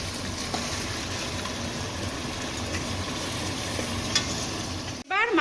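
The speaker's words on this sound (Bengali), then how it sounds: "এবার মাংস দিয়ে দীর্ঘক্ষণ অনেকক্ষণ ধরে কষাতে থাকবো, খুব ভালো করে কষাবো" Marinated mutton being stir-fried in spices for a mutton and potato curry, a dense, loud, continuous sizzle with faint stirring.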